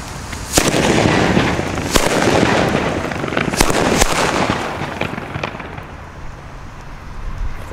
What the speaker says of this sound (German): Es folgen die Funke-Böller D.